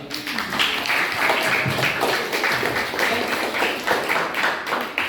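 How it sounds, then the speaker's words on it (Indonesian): Classroom students applaud group 2 with steady, dense clapping throughout, fairly close and loud, with no talk over it. "beri aplaus untuk kelompok 2"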